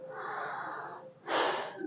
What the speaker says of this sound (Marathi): एक दीर्घ श्वास घ्या. सोडून द्या.